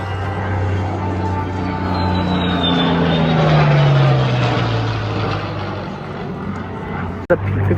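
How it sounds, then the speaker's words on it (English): A P-51 and an F-16 fly past together at an air show in Yuma, a loud, broad engine roar that swells and sweeps downward in pitch as they pass, followed by a sharp bang near the end. "The P-51 with the F-16 right there."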